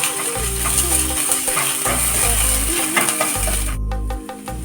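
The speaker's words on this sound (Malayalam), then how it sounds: "ഇഞ്ചി വെളുത്തുള്ളി ചതച്ചത് മൂന്ന് വറ്റൽമുളക് ചൂടാക്കി ഒന്ന് ചതച്ചെടുത്തത് ഇതൊന്ന് ഇളക്കി നന്നായിട്ടൊന്ന് സോട്ട് ചെയ്തെടുക്കാം" Crushed ginger, garlic and three heated, crushed dried chillies sautéing in a pan for orange chicken, a steady close sizzle with occasional stirring scrapes and clinks, running under soft background music for most of the clip.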